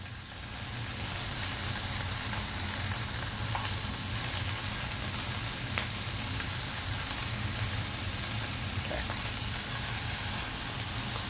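Meat sizzling on a Korean BBQ grill at home gives a steady, even hiss and crackle that runs unbroken throughout, with faint scattered pops and no talking over it.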